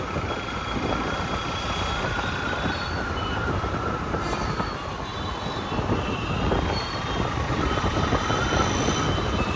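Secunderabad metro station traffic noise fills the scene with a continuous loud rumble and rail-like roar, with a faint high squeal running through it and no talk.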